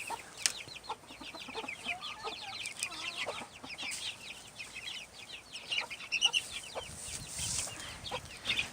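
Chickens and young chicks cluck and peep continuously in a brooder coop, many close, overlapping calls with a few louder squawks.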